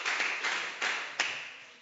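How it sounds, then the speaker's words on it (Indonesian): Classroom applause for a student who answered a question: a few separate bursts of clapping, moderately close and fading between claps, with no talking over them. "tepuk tangan untuk siapa tadi menjawab?"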